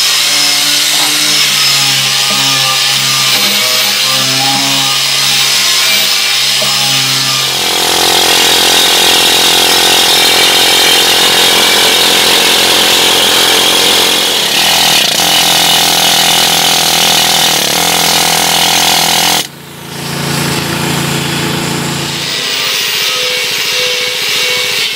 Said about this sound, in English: So now I'm going to get into this, the wire wheel.